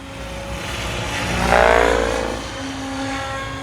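Radio-controlled model aircraft flying a loop, its buzzing engine rising to a loud peak as it passes near, then fading and swelling again, heard alone.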